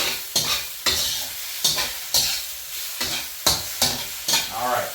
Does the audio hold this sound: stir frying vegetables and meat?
yes